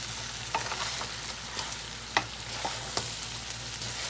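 Blue claw crab is stirred with onions and peppers in a sizzling pan. Occasional scrapes and knocks of the utensil rise over a soft, steady frying hiss, with no talk.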